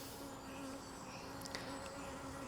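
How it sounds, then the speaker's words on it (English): Bees from an aggressive, agitated hive swarm in the air, making a faint, steady droning hum that holds evenly throughout, with a couple of brief higher whines as individual insects pass close. "So this is the angry hive full of flying bees."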